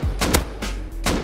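A few loud, close gunshots in Rust, three to four sharp reports in quick, uneven succession, each with a short booming tail.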